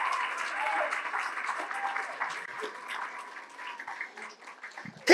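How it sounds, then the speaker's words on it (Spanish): A church congregation gives a sustained round of applause for the Lord, dense clapping that slowly thins and fades, with a few voices in the mix and a sudden louder sound at the very end. "¿Le puede regalar un aplauso caribeño al Señor?"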